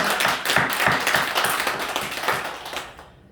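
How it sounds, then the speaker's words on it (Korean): A church congregation at a Sunday worship service claps together in a lively burst with a rhythmic pulse, then the clapping thins and fades out at the end. "다시 한번 우리 하나님 앞에 감사의 영광의 박수 올려드립니다."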